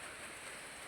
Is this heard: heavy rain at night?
yes